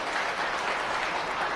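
An audience at a press conference for a charity film claps together in a brief, steady burst of applause, dense and moderately loud throughout.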